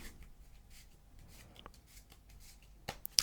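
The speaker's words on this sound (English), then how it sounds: "We'll give it one of these shuffles as well." Close, quiet riffling of a deck of playing cards being shuffled by hand during an ASMR card magic routine, a soft papery flutter followed by a few sharper taps at the end.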